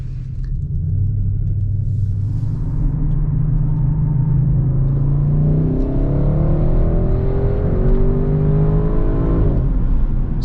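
A 2021 Audi RS6 Avant pulls away onto a race track, its engine rumbling loud and close inside the cabin, then revving and rising smoothly in pitch as it accelerates through the gears.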